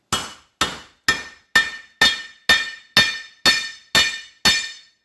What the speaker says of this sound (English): So we got to put this up on here and buck the rivets.